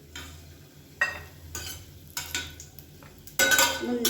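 Fried raisins lifted out of a hot pan of ghee with a metal spoon, gentle sizzling beneath a few sharp scrapes and clinks against the pan, the last one louder and longer.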